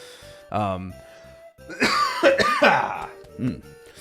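A man coughs and clears his throat a few times in quick succession, close and loud, with some speech mixed in.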